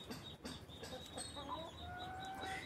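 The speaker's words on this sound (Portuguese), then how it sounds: "As galinhas aí, ó." Hens cluck and murmur softly at close range, a steady scattering of calls with faint rustling around them.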